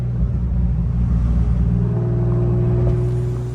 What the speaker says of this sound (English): The car runs and drives excellent, as you guys see.